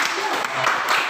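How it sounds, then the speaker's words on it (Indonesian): A short burst of classroom applause for a student group during a teaching session, brisk clapping with some voices mixed in. "tepuk tangan dulu untuk kelompok"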